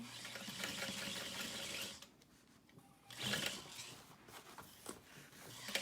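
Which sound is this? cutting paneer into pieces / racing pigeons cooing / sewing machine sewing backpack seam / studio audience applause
sewing machine sewing backpack seam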